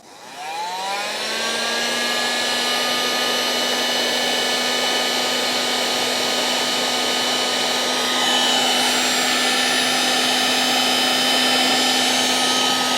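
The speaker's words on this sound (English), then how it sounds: "We're using a electronic heat gun. We're going to set the temperature on high" An electronic heat gun set on high spins up and blows with a steady, loud whine and rushing air while melting a solder sleeve onto wire, running continuously up close with no talking.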